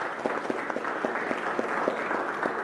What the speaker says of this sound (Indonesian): Boleh kasih tepuk tangan untuk narasumber.